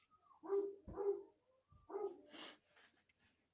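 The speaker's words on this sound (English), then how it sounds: "You got a dog?" A dog barks close by, three distinct barks in quick succession followed by a brief softer yelp, with little else around.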